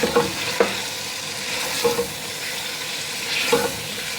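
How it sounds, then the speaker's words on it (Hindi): Tomatoes and yogurt being stirred and fried in a pot for chicken pulao, a steady close sizzle with a few spoon scrapes and knocks, no talk. "टमाटर ऐड करते हैं और इसे भूनेंगे"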